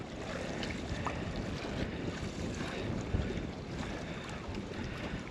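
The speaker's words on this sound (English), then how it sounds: "The wind has picked up a little bit" Wind blowing over open water during a sail with a miniRival model sailboat, a steady loud rushing roar mixed with lapping waves and microphone buffeting, close and without voices.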